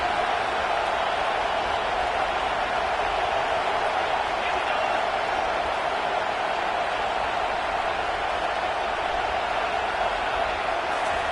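A stadium crowd in a Madden football video game keeps up a steady, unbroken roar of distant cheering, loud and even throughout with no distinct voices.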